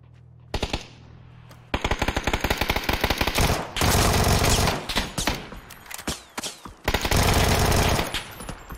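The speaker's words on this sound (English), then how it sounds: "Getting shot from the southwest" Automatic and single gunfire in the PUBG battle royale game: a few sharp isolated shots, then long loud rapid bursts of machine-gun fire with short pauses between volleys, close and dominating.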